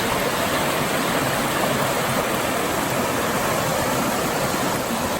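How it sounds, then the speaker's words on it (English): A river stream rushes steadily on the Maunawili Falls hike on Oahu, a constant, fairly loud wash of flowing water with no talking. "I hear a river."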